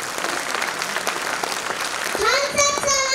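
A crowd applauds at a community festival at Civic Centre, New Delhi, dense steady clapping that fills the space, joined near the end by a sustained voice or tone over the applause.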